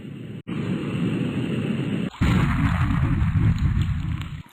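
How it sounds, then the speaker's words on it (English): Hydrogen fusing with oxygen in an explosive reaction: a loud, dense roaring blast that jumps abruptly in force partway through and rumbles on steadily to the end. "What happens when you fuse it with oxygen?"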